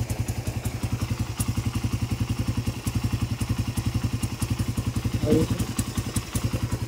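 A Suzuki Raider 150 motorcycle engine fitted with new cams runs at a steady idle, with even, rapid thumping exhaust pulses close by and a faint voice briefly in the background.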